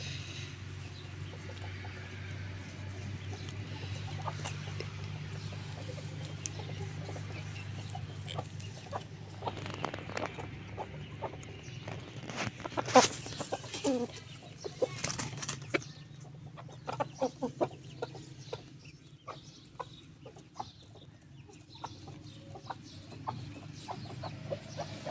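Aseel chicken clucking close by, a steady run of short clucks over a low hum, with a louder flurry of scratchy bird sounds midway.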